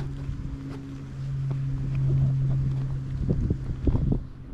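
Strong wind at a lake or pond buffets the microphone in low rumbling gusts, with a steady low drone underneath and scattered knocks, close and continuous with no talk.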